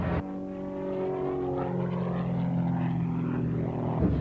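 Engine of an Extra 260 aerobatic propeller airplane droning loudly and steadily overhead, its pitch sliding slowly as it passes.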